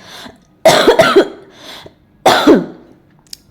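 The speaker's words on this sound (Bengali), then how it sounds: "সমানে কাশি হয়ে যাচ্ছে সবারই কম বেশি" Two separate bursts of coughing, each a quick cluster of harsh, throaty coughs with some throat clearing, close and loud against a quiet room, from someone suffering a cold with a heavy chest.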